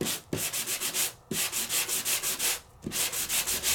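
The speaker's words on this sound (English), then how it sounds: "and let's take our sandpaper." Sandpaper rubbing over an embossed textured surface in quick back-and-forth strokes, a close, dry scratchy rasp repeating steadily with brief pauses and small knocks as the hand shifts.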